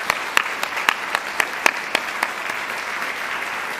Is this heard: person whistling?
no